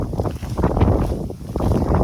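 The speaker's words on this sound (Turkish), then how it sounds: "Çok rüzgar olduğu için biraz bugün yüksek sesle konuşuyorum" Steady wind buffeting a microphone, a loud low rumble that surges and dips without a break.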